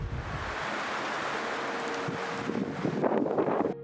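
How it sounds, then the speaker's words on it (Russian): Strong wind roars steadily in a broad, gusty rush around an abandoned castle, buffeting the microphone and swelling louder toward the end. "И какой сегодня сильный ветер тоже."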